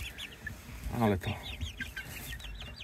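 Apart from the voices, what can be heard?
chickens clucking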